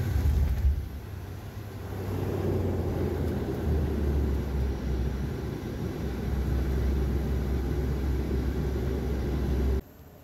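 A propeller plane lands at Minami-Daito Airport, its steady engine drone and deep rumble filling the cabin throughout, cutting off sharply at the very end.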